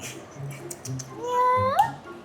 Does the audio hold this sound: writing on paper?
no